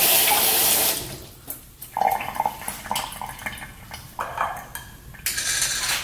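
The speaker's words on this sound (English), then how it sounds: "Rinse this off." Tap water runs into a kitchen sink while an item is rinsed under it, a steady hiss broken by splashing surges and faint clinks of dishes, close and fairly loud.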